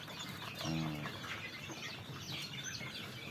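A brooding hen in a chicken coop gives a short, low, throaty clucking burst up close, followed by softer rustling and faint background chatter of the coop.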